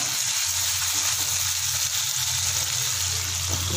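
Onions frying with tomatoes and spices in a pan for chappan kaddu sabzi, a steady loud hissing sizzle with a low hum underneath and no talking.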